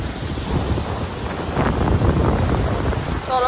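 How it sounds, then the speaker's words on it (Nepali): A mountain river flows below a trail on the Langtang trek, giving a steady, unbroken rushing roar with wind noise, and a brief high whistling tone near the end. "तल खोला बगिरहेको छ"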